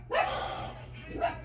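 A pet dog barks twice indoors, a short yelp and then a second bark about a second later, both fairly faint and with no talk.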